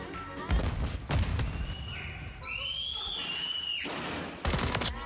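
Flashbang grenade going off in Call of Duty Modern Warfare III, a sharp blast followed by a high ringing whine that fades, with bursts of gunfire before and after.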